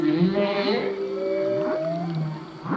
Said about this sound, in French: Il émet un chant avec écho, là, c'est tellement fort, ça.